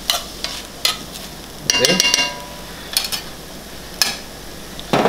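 Sweet potato gnocchi being stirred with a longaniza bolognese sauce and peppers in a hot pan, giving a soft steady sizzle broken by several scraping stirs, with a brief spoken word at the start.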